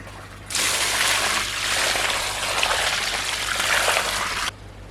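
Water poured steadily into a gravel base for a garden bird bath, a broad continuous splashing gush lasting about four seconds, close and fairly loud, with no talk.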